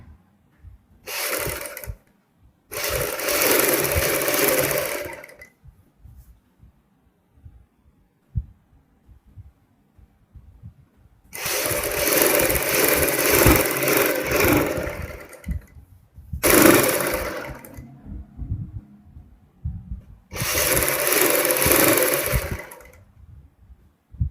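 A sewing machine stitches a drawstring for a kurti's boat neck, running in five bursts of rapid whirring, some brief and some several seconds long, with near-silent pauses between them.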